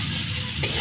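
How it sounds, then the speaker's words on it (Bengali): Potatoes and pointed gourd fry in a pan and get stirred, making a steady close sizzle with one quick scraping stroke near the end and no talk. "নেড়ে ছেড়ে"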